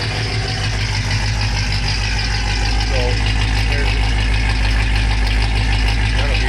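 A 1976 Cutlass with a 455 V8 idles cold while warming up, a loud, steady low rumble that fills the whole stretch, with someone speaking briefly over it.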